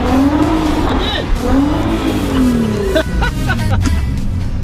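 A Nissan GT-R engine roars loudly at full throttle, its pitch sweeping up and down, with a brief tire squeal near the end.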